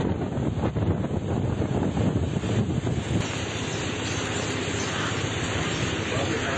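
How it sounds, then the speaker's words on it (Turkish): Strong storm wind buffeting loudly and continuously, with a roaring rush that is heavier in the first half and then eases slightly. "Şiddetli rüzgar hayatı olumsuz etkiledi."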